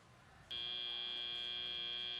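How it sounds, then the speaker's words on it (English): A loud, steady electronic buzzer at a FIRST robotics competition match kicks in abruptly and holds its flat, harsh tone to the end. "All right, that buzzer sounds."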